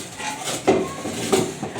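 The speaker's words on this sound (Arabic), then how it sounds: "مين يا دي معلمك تدعك الحلل كده؟" Cooking pots are scrubbed by hand in a home kitchen, the traditional way: close, gritty rubbing is broken by two sharp metallic clanks of the pans, with no one talking.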